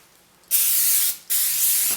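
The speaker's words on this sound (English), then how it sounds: "I just take 2 pieces of wax paper and spray them really good." Two long hissing bursts from an aerosol cooking spray can onto wax paper, close and loud, separated by a brief pause.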